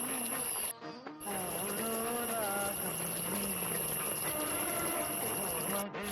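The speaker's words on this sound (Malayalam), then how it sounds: "നമ്മുടെ തേങ്ങാപ്പാൽ വറ്റി വന്നുകൊണ്ടിരിക്കുന്നുണ്ട്" Coconut milk with banana pieces simmering and reducing in a pan for Onam Pazham Nurukku, a steady soft bubbling hiss with faint crackle, fairly quiet and continuous apart from two short dropouts.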